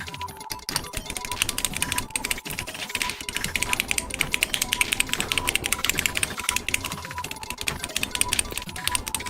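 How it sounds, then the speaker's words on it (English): Rapid, continuous clacking of keys on a newly built mechanical keyboard, dense, close, crisp strikes with brief pauses, heard alone. "immediately I notice on this one the keys, the same switches and caps that I used before here sound entirely different"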